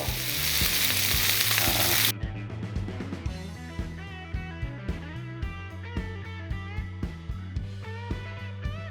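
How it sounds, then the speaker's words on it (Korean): A 1 kg beefsteak sears in a hot pan with butter and garlic, loud broadband sizzling for the first two seconds, then continuing frying crackle under rhythmic knocks and clanks of the pan and utensils. "양쪽을 살짝 태워주셨으면 옆면을 세워서 어, 육즙이 빠져나가지 않도록 가둬주세요"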